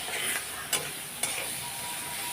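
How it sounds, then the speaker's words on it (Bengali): Onion and chilli fry in a pan with a gentle, even sizzle, while two sharp scrapes of a spatula against the pan stand out above the quiet background. "শাকে আমি পেঁয়াজ আর লঙ্কা দিয়েছি, একটু লাল লাল হোক"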